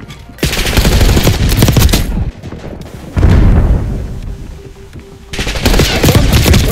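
Gunfire in the video game Black Ops 6: loud, dense bursts of automatic fire and heavy booms in several long volleys, with brief quieter gaps between them.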